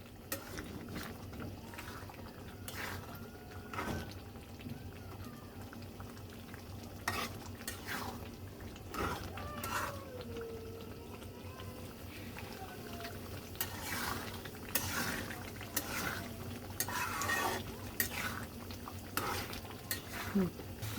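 Spices and potatoes being stirred and fried in oil in a pan, with a steady sizzle under repeated scraping and rattling strokes of a spatula, near and moderately loud, with no voices.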